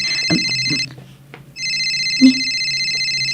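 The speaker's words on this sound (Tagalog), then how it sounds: "Agriring ti cellphone ko." A cellphone rings with a bright electronic ringtone in repeated bursts, broken by a short pause, while faint voices and small movements sound in the background.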